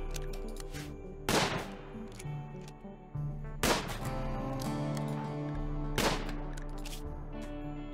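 Colonists in the colony-building game Rimworld fire weapons in three sharp bursts, spaced a couple of seconds apart, over steady background music and game ambience.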